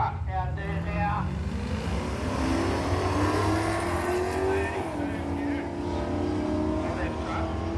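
A drag-racing truck accelerates with a rising engine drone as it pulls through the gears, loud and continuous with a rough rumble, while an announcer talks over it.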